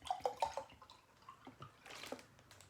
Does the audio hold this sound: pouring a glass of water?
yes